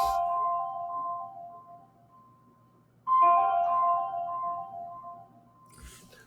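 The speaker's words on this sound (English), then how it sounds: "I'll give the bell a second to finish ringing." A bell rings out twice with clear tonal strikes, each one ringing on and slowly fading, and a short knock-like sound comes near the end.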